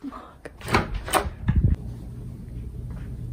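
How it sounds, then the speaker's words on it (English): An office door that won't lock is handled, with a few sharp knocks and rattles of the handle and a heavier clunk, close by in a quiet room. "Wait, this door doesn't lock."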